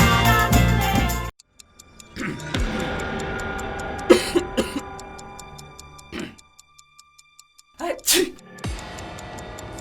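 A few short coughs break out amid a sparse, clicking background, with brief quiet gaps between the bursts.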